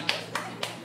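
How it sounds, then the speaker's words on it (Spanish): Three sharp, evenly spaced claps from one person in a podcast studio, close and distinct against a quiet background. "Aplaudí yo solo"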